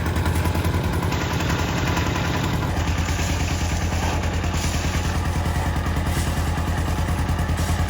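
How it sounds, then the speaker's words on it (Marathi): A motor engine idles steadily and loudly while belching smoke at a house slab-casting site, its rapid even chugging and rattling clatter continuing unbroken throughout. "इंजिन कसलं धूर मारतंय."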